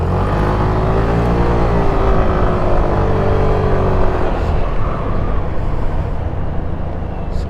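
Steady engine drone and road noise from a Suzuki Burgman Street 125 scooter riding through city traffic in Davao City, with a continuous close hum and wind rush and a slight pitch rise partway through.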